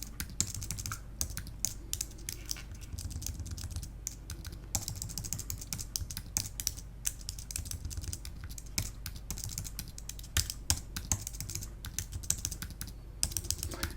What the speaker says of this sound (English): beats typing it all out by hand like in the old days